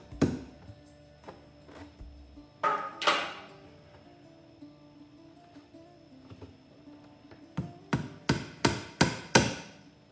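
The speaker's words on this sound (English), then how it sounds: "using pliers with the nose of a needle works well to tack in the tack" Tacks tapped into leather on a Viking shield with needle-nose pliers: scattered sharp knocks, then a quick run of five or six loud, evenly spaced taps near the end, up close and alone.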